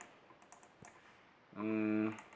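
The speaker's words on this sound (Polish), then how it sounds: "Te mikrostyki ładnie słychać." Rapid run of microswitch buttons clicking on a Thrustmaster Sparco R383 steering wheel, a few sharp light clicks followed by a dense burst of close, loud button presses.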